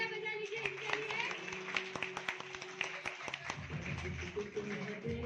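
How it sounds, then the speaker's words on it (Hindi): An audience claps in a steady scatter of sharp hand claps at a community event for a free sewing centre, with music and a voice continuing underneath. "एक बार जोर से तालियां बजा लीजिए इनके लिए।"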